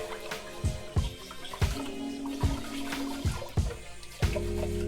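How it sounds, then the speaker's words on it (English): Sushi rice being washed in water, with repeated sloshing and swishing strokes and dull knocks against the container at a steady rhythm, close and fairly clear, with no voices. "so let's wash our sushi rice. Make sure you wash it well."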